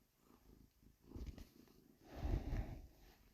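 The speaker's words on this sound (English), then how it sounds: "Cat." A cat purrs close by in soft, rhythmic low rumbles that swell in two louder waves, quiet overall and alone with no talk.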